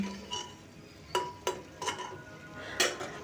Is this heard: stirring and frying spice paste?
yes